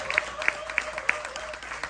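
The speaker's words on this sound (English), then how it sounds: "Clap it up for Todd Billy one time." An audience claps for Todd Billy at an interview event, a fairly faint spatter of applause with a few sharp individual claps standing out and a low steady tone beneath.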